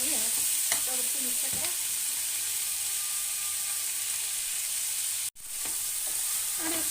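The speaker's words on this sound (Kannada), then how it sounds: "ಇಷ್ಟನ್ನು ಇಲ್ಲಿ ಫ್ರೈ ಮಾಡ್ಕೊತೀನಿ" Tomatoes sizzle steadily in a hot pan for sambar, with a few scraping stirs near the start and a brief dropout partway through; no one talks.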